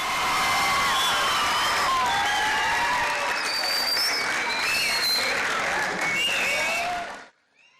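Audience applause for a welcome at a career guidance seminar, steady dense clapping with scattered whoops and cheers, sustained for about seven seconds before cutting off abruptly.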